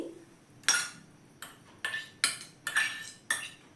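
A spoon clinks against a bowl while chopped onion, salt and an egg-and-eggplant batter are mixed, giving about six sharp, separate taps spaced irregularly over a quiet background.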